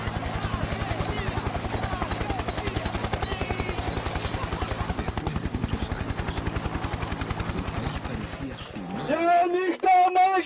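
Helicopter rotor thudding with a steady rapid beat, loud and continuous for most of the span, giving way at the end to a different sound with tonal content.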